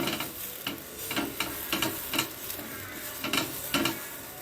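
An oiled brinjal stalk rubbed around a hot frying pan, producing a series of short scraping, sizzling strokes in an uneven rhythm, close and without speech.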